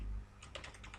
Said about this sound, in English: So I press the Ctrl S button for save into the my JS file folder.